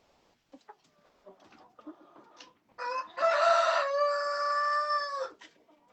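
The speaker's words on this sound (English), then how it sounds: "We're going to be feeding the chickens." Chickens in a farm pen at feeding time during a blizzard give scattered soft clucks and short calls. A loud, close rooster crow follows, drawn out for nearly two seconds before the clucking resumes.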